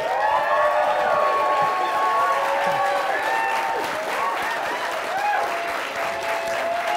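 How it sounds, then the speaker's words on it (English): A live audience at a comedy panel show applauds the panelists as they are introduced: loud, dense clapping with some cheers and whoops running steadily throughout, with voices mixed into the crowd noise. "please give a round of applause to our punters tonight"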